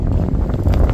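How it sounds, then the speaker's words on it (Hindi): Wind gusts outdoors in St. John's, Newfoundland, buffet the microphone with a loud, continuous low rumble that has no clear pauses. "इस वक्त हवा चल रही है लेकिन बिल्कुल सर्दी फील नहीं हो रही।"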